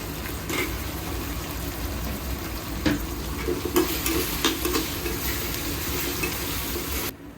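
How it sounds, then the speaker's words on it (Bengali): Egg frying in a pan with ginger-garlic paste and tomato, heard as a dense, continuous sizzle with faint scrapes and clinks, close and fairly loud and steady throughout, with no talking. "এখন আমি ডিমটা ভোনা করবো দিয়ে দিব আদা রসুন বাটা আর দিব টমেটো"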